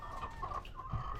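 Chickens cluck inside a freshly cleaned, disinfected chicken coop, with soft, close calls overlapping in uneven bursts and a low murmur of movement underneath.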